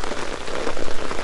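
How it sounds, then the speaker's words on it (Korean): Steady rain pours down at a lakeside reservoir during early-morning carp fishing, a dense, continuous hiss of drops striking surfaces close by, with no voices. "또 비가 오기 시작합니다."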